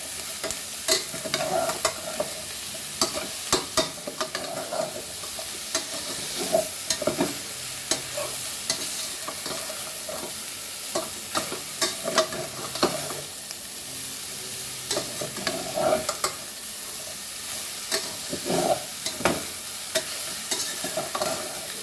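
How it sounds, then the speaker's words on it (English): Continuous sizzling and crackling of onions frying in rendered pork fat with no oil, with occasional scraping and stirring sounds throughout, close up and no voices. "Whatever the pork meat is going to release, in that only I am frying my onions."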